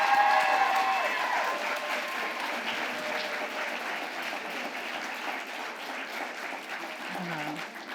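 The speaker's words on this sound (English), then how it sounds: "can we get another round of applause for all the parents and guardians here?" An audience at a school celebration applauds parents and guardians, a dense, steady wash of clapping from a sizable crowd that holds for several seconds and gradually tapers slightly.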